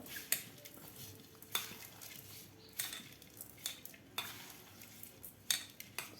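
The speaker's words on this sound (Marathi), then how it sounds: "आता आपल्याला हे व्यवस्थित सुरून घ्यायचं आहे" A utensil stirs salted fenugreek leaves in a pan with repeated scraping strokes, close and fairly quiet, over a faint sizzle, with no talking.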